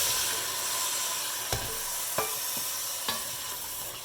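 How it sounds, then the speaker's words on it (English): Loud, continuous sizzling and hissing of hot water hitting a hot pan with garbanzo beans, with a few sharp clacks of a utensil scraping the bottom. "Add a little bit of this hot water to the garbanzos"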